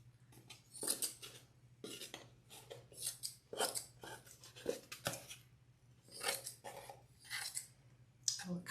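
Scissors snipping off excess quilt batting for a no-sew wreath, a series of crisp close cuts in an uneven rhythm, quiet and alone.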